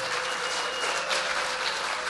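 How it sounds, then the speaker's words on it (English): Audience applause at a federal all-candidates forum in Huntsville, a steady wash of clapping from a room of listeners that holds evenly for about two seconds, with no voice over it. "I appreciate the applause."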